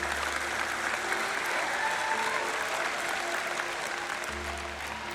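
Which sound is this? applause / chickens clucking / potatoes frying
applause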